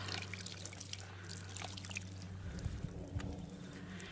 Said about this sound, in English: for now I'll just keep washing my pumpkins